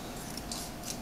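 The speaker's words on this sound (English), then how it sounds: "So we're going to cut the straw in half" Scissors snip through a plastic drinking straw, two or three short crisp cuts close up in a quiet room.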